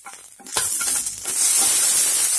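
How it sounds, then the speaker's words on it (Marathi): Green chillies roasting in a pan with a drop or two of oil: after a brief quiet start, a loud, close, steady sizzle and crackle bursts in and holds to the end, with no talking. "इथे पॅनमध्ये हिरव्या मिरची थोड्या भाजून घेऊया."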